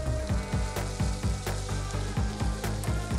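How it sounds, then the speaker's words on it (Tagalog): Sausages fry in a pan for menudo, giving a loud, dense sizzle with rhythmic pulsing swells as the pan is stirred or shaken, no talking over it. "Dahil parang naprito na rin ang ating sausages."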